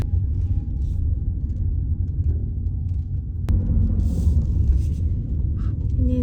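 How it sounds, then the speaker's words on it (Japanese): A 2022 Toyota Aqua hybrid in Power+ mode coasts after the accelerator is released, with light regenerative braking. Heard from inside as a steady, fairly loud low road-and-drivetrain rumble with no talking. "アクセル離しますね。ぐーっと。 こんな感じでね、少しね、ブレーキが効いてくれるような感じになっています。"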